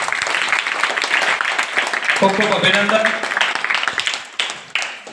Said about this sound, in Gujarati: સરસ, તાળીઓથી વધાવી લઈશું